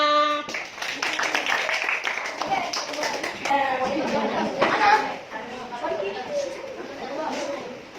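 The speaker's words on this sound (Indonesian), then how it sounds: "kasih aplaus untuk semuanya" Students in a classroom applauding together, a dense burst of clapping with chatter and light laughter mixed in, starting abruptly and fading out, while a teacher's voice talks over it.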